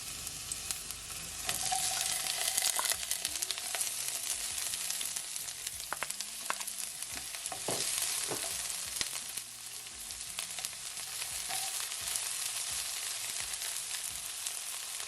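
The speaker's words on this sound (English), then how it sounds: "So now I'm gonna add my onion first with my garlic, and I'm just gonna allow it to saute" Onion and garlic sauté in oil over low heat for a vegetable stir fry, giving a steady close sizzle broken by occasional clinks and scrapes of stirring, with no voices.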